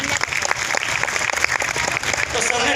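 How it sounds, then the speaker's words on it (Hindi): An audience at an RCM achievers' program in Bhilwara gives loud, sustained applause, dense overlapping claps that keep going throughout with some voices mixed in. "एक बार जोरदार ताली दीजिए"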